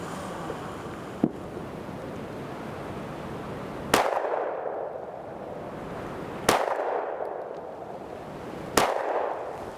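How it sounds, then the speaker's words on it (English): Three sharp pistol shots from a Sig Sauer X Macro fired at a 5-yard target for an accuracy test, spaced roughly two seconds apart outdoors, each a loud crack with a short ringing decay over steady wind noise. "We're going to do our 3-shot accuracy test, Lauren and I."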